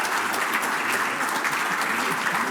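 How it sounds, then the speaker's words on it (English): Applause from a mayoral candidates forum audience, a dense, steady wash of many hands clapping throughout, fairly loud and close, with no voices over it. "Let's all give a round of applause to Mr."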